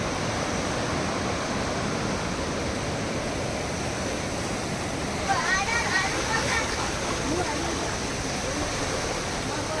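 Water pours out of a large cave near Muktinath in Nepal, making a constant broad rushing roar like a small waterfall, with faint voices briefly audible over it.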